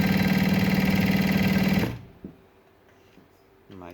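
A Juki DU-1181N sewing machine stitches through four layers of thin fabric with a rapid, even, loud chatter that stops abruptly, leaving near silence with a few small clicks.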